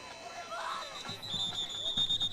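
A steady electronic buzzer tone sounds at the end of a quarter at a high school football game, held for over a second with crowd noise and a commentator's voice underneath.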